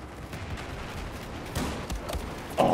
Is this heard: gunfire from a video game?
yes